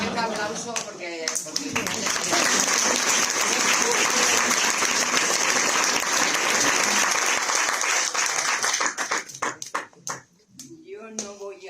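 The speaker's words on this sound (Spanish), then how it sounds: "Se merece un aplauso" Sustained audience applause at a tribute event in Spain, loud and dense for about nine seconds, thinning into scattered claps and fading, with speech heard at the start and end.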